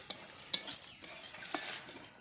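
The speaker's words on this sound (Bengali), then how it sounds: "সুজিটা আমি হালকা করে ভেজে নেব, বেশি লাল করব না" Semolina roasts lightly in a dry pan while a spoon stirs it, making soft rustling scrapes with a few sharper metallic clinks, close and fairly quiet, with no talking.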